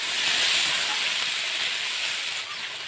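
Potatoes and pointed gourd frying in a pan give a steady, loud sizzling hiss that runs unbroken throughout and eases slightly near the end.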